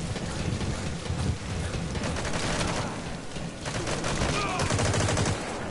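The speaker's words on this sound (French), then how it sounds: "ils ne peuvent pas s'empêcher de tirer au long des grenades dans tous les sens" Rapid bursts of gunfire and grenade blasts in the online shooter Metal Gear Online, dense and continuous, loud and close throughout with no break.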